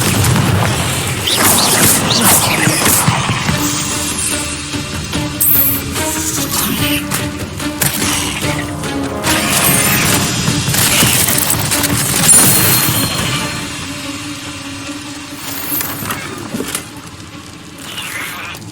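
Fiery Confringo spell blasts go off in a cave in Hogwarts Legacy, a series of loud booms and crashing bursts layered over dense game ambience and music for nearly twenty seconds.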